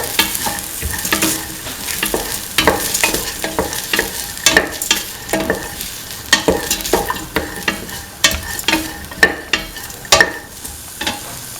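Split chickpea rice being mixed with salt in a pan: loud, busy scraping and tapping of a spoon against the pan in quick irregular strokes over a soft frying hiss, close up and without speech.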